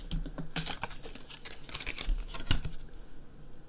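Tarot cards being shuffled up close, with a quick run of crisp riffling and slapping bursts that fades out toward the end. No speech is heard.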